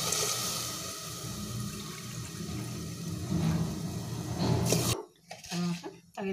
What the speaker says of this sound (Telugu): 4 కప్పుల రైస్ వాటర్ పోసుకోవాలి.